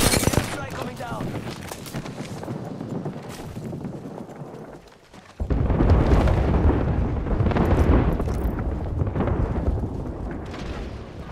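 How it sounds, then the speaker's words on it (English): Airstrike explosions rain down in the battle-royale video game Apex Legends Season 8: rumbling, crackling blasts and bursts of gunfire-like impacts, briefly dropping off, then surging back loud and dense. A player talks over it. "Yo, airstrike coming down."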